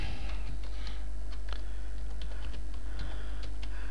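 Rapid clicking of a computer keyboard as a folder name is typed, a run of light, irregular key taps close by over a constant low electrical hum.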